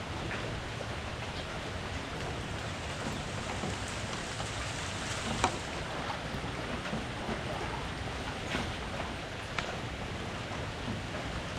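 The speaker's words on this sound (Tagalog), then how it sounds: "Maulan." Steady rain pours down during a flood, a dense even hiss with scattered louder drips and splashes on nearby surfaces, continuous throughout with no talking.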